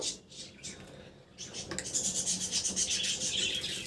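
Peeled boiled eggs are rubbed by hand with salt, turmeric and chili powder. The result is soft, close scraping and rasping that is quiet at first and then grows into steady, repeated rubbing strokes.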